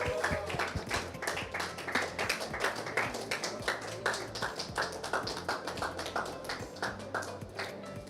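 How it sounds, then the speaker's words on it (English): Applause at a live poker tournament final table as the winner receives the trophy; a modest group claps in a quick, uneven patter for several seconds, close and fairly clear, with little talk. "Give it a round of applause,"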